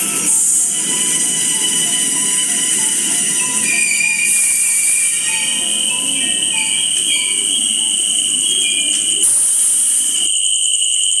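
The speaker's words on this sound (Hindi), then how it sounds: "कुछ देर बाद किसी कारण ट्रेन एक सुनसान जगह पर रुक जाती है।" A train runs along rails, used as a horror-story sound effect: a continuous rumble with high, steady squealing tones that carries on throughout and then cuts off abruptly near the end.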